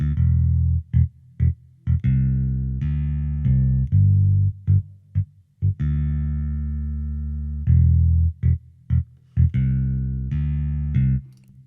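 Bass guitar line through a Neve-inspired channel strip plugin, with a warm, slightly driven tone, plucked notes in a steady rhythm with short gaps between phrases, alone and up front.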